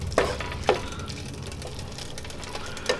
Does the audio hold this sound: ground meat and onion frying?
yes